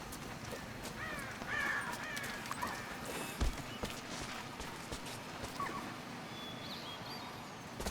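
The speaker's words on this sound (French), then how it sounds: "C'est un corbeau." Crows caw repeatedly in the valley of the video game Rise of the Tomb Raider, scattered harsh calls over soft ambient game sounds with occasional thumps.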